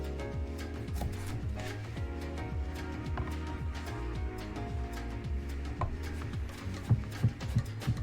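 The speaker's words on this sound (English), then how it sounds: "Bit of heavy veggie chopping here for a bit." Vegetables being chopped heavily on a board for coleslaw, a steady run of close knife strikes over a constant low hum, with a few louder thumps near the end.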